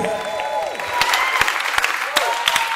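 Audience applauding for a singer named Chris, a burst of clapping that builds into scattered sharp claps, with a voice speaking over it.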